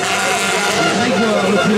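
M2 buggy race cars roar at an autocross race in Saint-Germain-d'Anxure, a loud sustained engine drone with rising revs, heard under a commentator talking over a public address.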